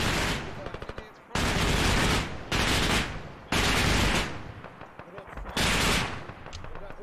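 Heavy anti-aircraft cannon fire from a ZSU in a military video game, several loud sustained bursts separated by short pauses, each roaring broadband and close, with no talk over them.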